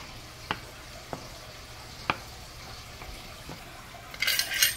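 Butter and spices hitting a hot pan of rice for yellow rice, a low steady hiss broken by a few sharp utensil taps, then a louder burst of sizzling at the end, with no voices.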